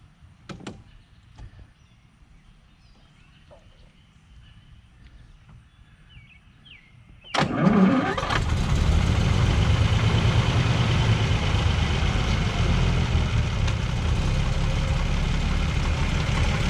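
A pre-war Rolls-Royce engine with a three-brush charging system cranks and catches after a quiet stretch with a few clicks, then settles into a steady, close idle that runs on to the end without talk.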